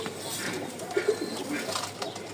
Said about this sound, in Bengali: প্রতিটা কবুতরের ডাক হাক মাশাআল্লাহ